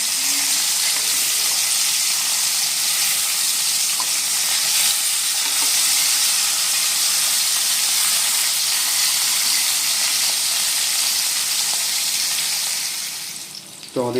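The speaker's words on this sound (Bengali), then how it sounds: "আর আপনারা বন্ধুরা কিন্তু খুব ভালো করে ভাজতে লাগবে না ইলিশ মাছ, প্রতিটা সাইড 1 মিনিট করে ভেজে নিলেই হয়ে যাবে।" Hilsa fish sizzles steadily in a hot pan, each side fried about a minute, a dense, loud crackle and hiss that runs unbroken for the whole stretch and dips briefly near the end.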